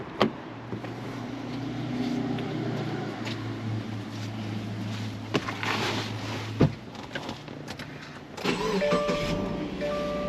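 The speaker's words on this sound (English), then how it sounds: "I just started the car" A 2016 or 2017 Subaru Outback idling just after starting, with a steady low engine hum, several sharp clicks and thumps from the cabin, and a brighter whirring hum near the end.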